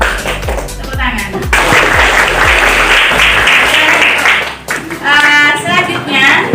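A classroom group of students claps together in a rhythmic, loud burst of applause, preceded by a few sharp taps and followed by voices rising over the end.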